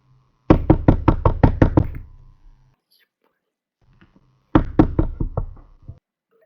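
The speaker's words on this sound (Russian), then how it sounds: "Еще стучи, еще." Two bursts of rapid knocking on an office door, about seven sharp raps at a time, loud and close, separated by a pause with faint murmuring in between.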